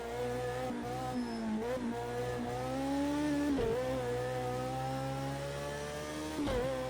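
A Bac Mono race car at Bathurst in a racing video game, its engine note climbing steadily in pitch through the gears with brief dips at each upshift, loud and continuous with no talk.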